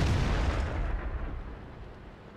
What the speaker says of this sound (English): we managed to put a second shell into him without taking a return shell